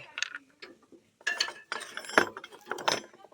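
Metal nuts and rotavator blades for a TVS Saktiman rotavator clink and clatter as they are handled, with irregular close bursts of metallic chinks separated by short pauses.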